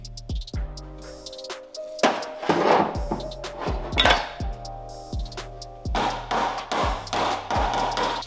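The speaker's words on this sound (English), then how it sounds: "now it's time to planish these welds out and grind them and do all that finishing work" Hammer planishing welds on a Porsche 911 quarter panel, rapid metallic taps in uneven bursts with short pauses, close and loud.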